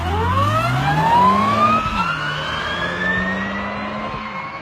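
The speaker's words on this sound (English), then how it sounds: "it gives the car an incredibly exciting turbine sound." An electric car's rear gearing gives off a turbine-like whine that climbs steadily in pitch over a low drivetrain hum, loud and close, with no voices.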